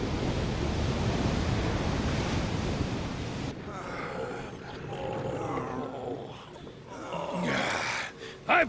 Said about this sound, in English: I've faced bigger waves than that and lived.